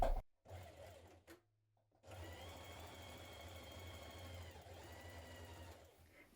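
A sewing machine stitches the shoulder seams of a nightie yoke, joining front and back facings, in a steady whirring run of about four seconds after a couple of brief starts, close and fairly quiet.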